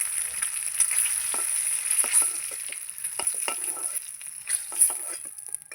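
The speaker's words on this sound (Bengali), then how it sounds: "ডিম ভাজা হয়ে গেল।" An egg fries in oil in a kadai outdoors, giving a steady bright sizzle with scattered pops and spatters throughout, close and fairly loud, with no talking.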